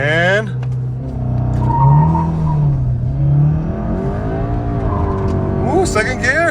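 A hand-controlled 300+ HP VW GTI accelerates hard in first gear with traction control cutting in, its engine revving loudly and rising in pitch, with people talking over it.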